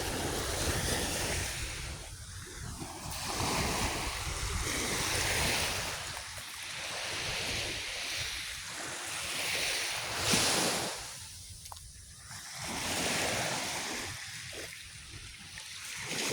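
Ocean waves at a beach in Barangay Sabang, Santa Cruz, Zamboanga, a continuous rushing surf that rises and falls in slow swells, with wind buffeting the microphone and no voices.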